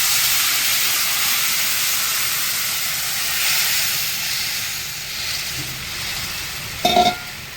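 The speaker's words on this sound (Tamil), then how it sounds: "இந்த புளி கரைச்சலை ஆட் பண்ணுறேன்." Tamarind extract poured into a hot pan for temple-style puliyogare, giving a steady loud sizzle and hiss that holds throughout, with a brief sharper splash-like burst near the end.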